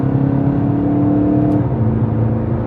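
A VW car engine revs hard and close, holding a steady loud drone, then drops in pitch as it shifts gear partway through.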